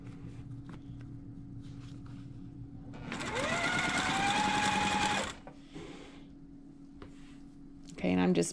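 A sewing machine stitches quilt pieces into a four patch block, running in one steady two-second burst after a quiet stretch, then briefly again at the end.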